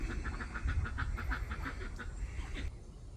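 A group of ducks quacking in a quick run of repeated calls, fairly close, over a low outdoor rumble, then fading out near the end.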